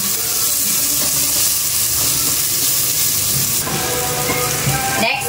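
Garlic, onion and ginger sauté in oil in a pan with a loud, continuous sizzle, stirred with occasional clinks and scrapes, and a sharp clatter at the very end.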